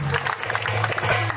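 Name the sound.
applause at auction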